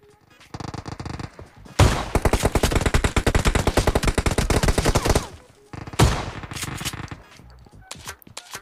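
Heavy automatic gunfire rattles in PUBG Mobile, long dense bursts of rapid shots with a pause between, loud and close with brief gaps of quieter single shots.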